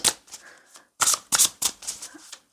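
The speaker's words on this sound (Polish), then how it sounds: "Wyciągnę teraz karty dla nas na dziś." Tarot cards being shuffled and drawn, a series of close, crisp riffling and slapping bursts in uneven rhythm with brief pauses between, with no voice.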